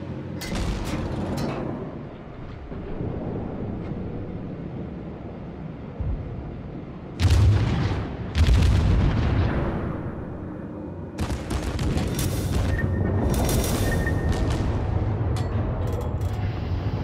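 A US cruiser's naval guns fire in the World of Warships naval battle game, with several loud, booming salvos standing out above a steady rumble of ongoing combat.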